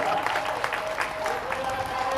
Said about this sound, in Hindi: हम सब लोग सम्मान में ताली को बजाएं